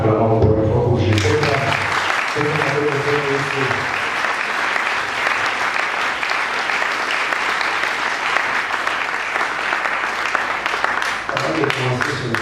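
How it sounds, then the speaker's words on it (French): Church congregation at a Sunday service breaks into loud, sustained applause for Jesus, dense clapping filling the room for over ten seconds, with voices and music tones at the start and end. "Acclamons pour une fois pour Jésus."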